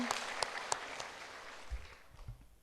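A church congregation claps warmly for the Hallelujah choir during a Sunday worship service, with dense, steady applause that fades and thins toward the end, with a few sharper claps standing out.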